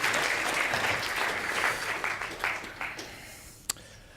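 An audience at the FameLab Ireland 2014 science communication final claps warmly for a contestant. The dense applause gradually thins and fades, and a single sharp knock near the end cuts through the quiet.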